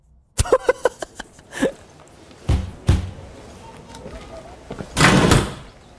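Door opening in the video game Far Cry 6, a sequence of sharp clicks and knocks followed by two heavier thuds and a longer loud sliding burst near the end, close and clear with no talk.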